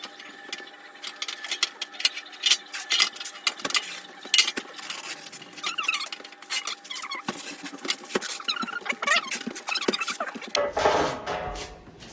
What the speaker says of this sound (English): Take some on the paper towel. And you wipe it around the pan.